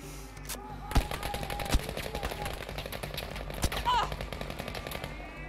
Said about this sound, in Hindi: अरे कहाँ से आ रही गोली?